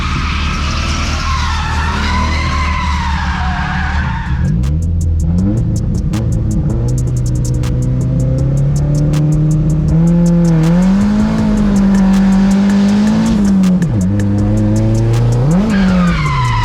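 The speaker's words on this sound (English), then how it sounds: "I should be able to shift into 3 and get enough speed to clutch kick pretty hard into that main sweeper" A race car in a points series final, clutch-kicked hard into a sweeping first corner: loud engine revs climb and fall through gear changes, overlaid with long squealing and skidding tires, close up and continuous, no talk.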